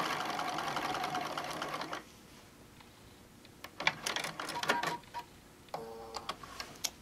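A sewing machine runs in a steady, fast stitching burst for about two seconds while topstitching a tote bag, followed by quieter clicks and handling noises of fabric and parts.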